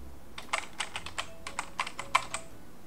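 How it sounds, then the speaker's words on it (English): Password being typed on a computer keyboard during a Raspberry Pi Ubuntu Mate login: a quick, uneven run of about a dozen close, crisp key clicks in a quiet room. "Now here we have to type in the password."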